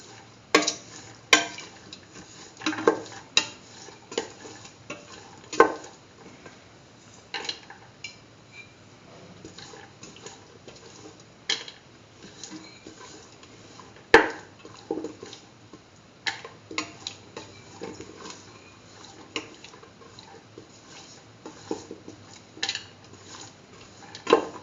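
A spoon stirs and scrapes through a chickpea and yam stew in a metal pot, giving irregular light clinks and taps at a steady close distance, no voices.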